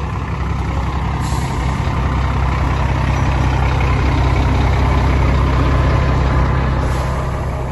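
A truck engine idles steadily with a constant low rumble and no break, close and loud throughout, with a faint hiss rising briefly twice in the background.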